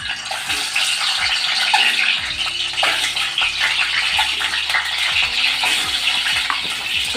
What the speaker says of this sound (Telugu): ఇందులో గుడ్లు వేసి వేయించుకుందాం